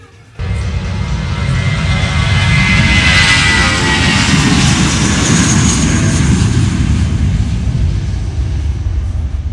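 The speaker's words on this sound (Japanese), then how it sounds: "きっとこんな近くで離陸していく飛行機がっつり見れますよ。" An airplane takes off on the runway at Samui airport, its engine roar starting abruptly and building into a loud, sustained rushing drone close by, with no speech.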